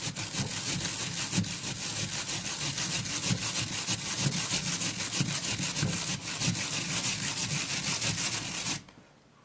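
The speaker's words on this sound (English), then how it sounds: "Now I'm just gonna be grating it, okay? So we can get the juice from the potato." A potato rubbed steadily against a grater for its juice, a close, continuous rasping scrape with a quick back-and-forth rhythm that stops abruptly near the end.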